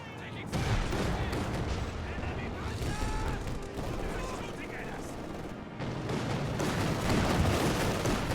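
Battle sounds from the video game Company of Heroes 2 with a Comet tank firing at a Panzer IV: booming cannon shots and crackling small-arms fire in a busy mix, under continuous commentary.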